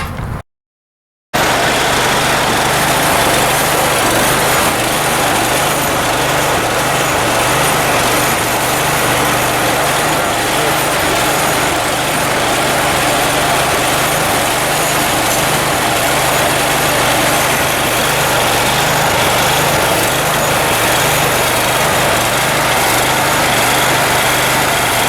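A Graco 833 line-striping sprayer engine runs steadily and loudly throughout, a continuous idling drone with no talk, after a brief silent gap at the start.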